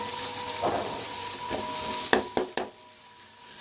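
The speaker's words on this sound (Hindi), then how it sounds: "इसके बाद हम इसमें अदरक लहसुन का पेस्ट ऐड करेंगे और इसको अच्छे से मिक्स करेंगे" Ginger garlic paste frying with browned onions for masala bhindi: a bright, steady sizzle fills the clip, with a few sharp spoon clinks and scrapes near the end as it is stirred, no talking.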